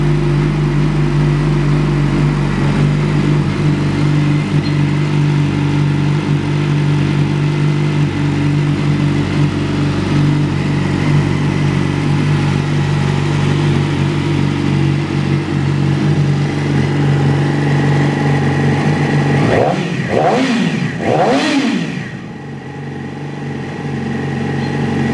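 A car engine idling steadily through its exhaust on a chilly morning, a loud, low, even rumble that holds for about twenty seconds, then a few quick revs before it settles and quiets.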